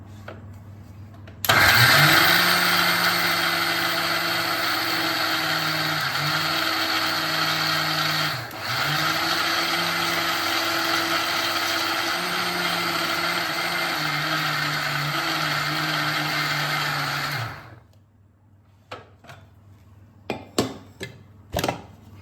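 A mixer grinder jar grinds soaked lentils and rice into idli and dosa batter, with a loud, steady motor whir running about sixteen seconds with brief dips in pitch. It then cuts off, followed by a few sharp clicks.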